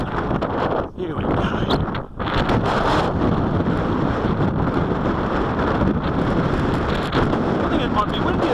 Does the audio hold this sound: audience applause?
no